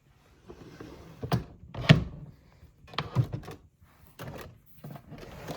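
A makeup storage drawer is pulled open with a series of close wooden thunks, slides and knocks, scattered irregularly over several seconds in a quiet room.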